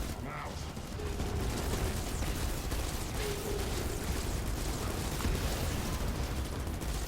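An action video game rattles with dense gunfire and booming blasts, a loud continuous barrage with rumbling low thumps throughout.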